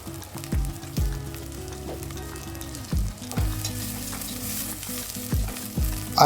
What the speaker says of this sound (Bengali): নাড়াচাড়া করে ভেজে নিয়ে দিয়ে দিলাম আট দশটার মতো কাঁচামরিচ